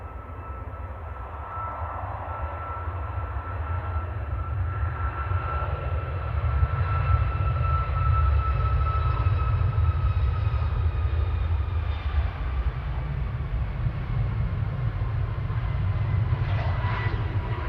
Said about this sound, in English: On the roll now, heading off to Malta, Ryanair 5209